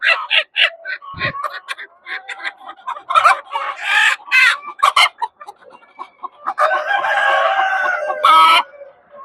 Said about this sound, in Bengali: এগুলো আছে হাইব্রিড মুরগি